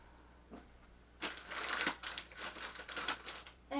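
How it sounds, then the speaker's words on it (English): Scrap paper is slid underneath an envelope, making close, crisp rustling and crinkling sounds in quick bursts. "I take a scrap piece of paper underneath"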